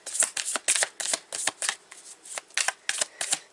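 A deck of tarot cards being shuffled up close, a quick run of crisp riffling bursts falling in an uneven rhythm of roughly a dozen short flutters, with no voice over them.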